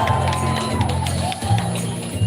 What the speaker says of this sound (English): Can I hear a cheer from Section B?